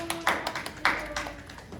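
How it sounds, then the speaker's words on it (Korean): A few scattered claps of applause ring out at a youth worship service. They are faint and sparse, with voices talking quietly among them. "박수!"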